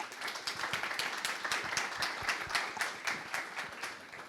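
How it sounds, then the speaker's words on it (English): A crowd applauding at a tech conference talk, a dense, even patter of many hands clapping at once, sustained throughout at moderate volume. "I think they deserve a round of applause"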